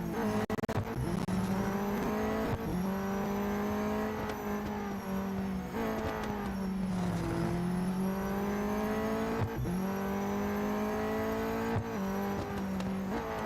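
A race car in the Real Racing 3 mobile racing game slides around the Melbourne circuit, its engine droning steadily as tires squeal through repeated corners, loud and continuous with no talk.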